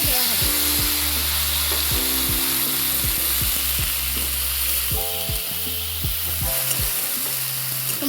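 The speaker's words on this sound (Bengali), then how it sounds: "এই কড়াইয়ের মধ্যে এবার এটাকে এই মশলাটাকে দেওয়া হবে" Ginger-cumin spice paste mixed in water sizzling loudly in a kadai for a vegetarian banana-flower dish, a dense continuous hiss close up with repeated scraping strokes of a spatula.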